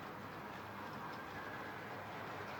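Two-tone green model train locomotive running into a station, a faint steady rolling rumble with soft rail clatter, continuous and even at low level.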